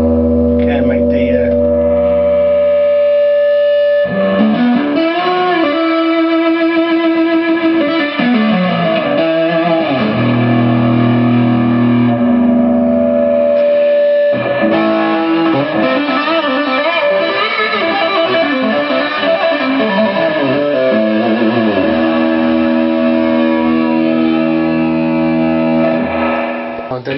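Session Sessionette 75 guitar amp on its clean channel with reverb set three-quarters up, playing sustained chords and bending melodic lines that ring out with a washy tail, with short pauses between phrases.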